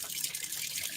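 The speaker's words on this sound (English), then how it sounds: "I'm going to let water go in here, and you see it runs out" Water running through an outboard motor's water pump, a steady, close hiss of gushing flow with no break for its full second.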